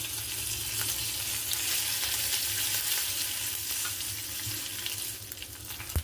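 Dry red chillies and curry leaves crackle in hot oil while tempering a masala for tomato rasam, a steady close sizzle throughout that ends with a small clatter.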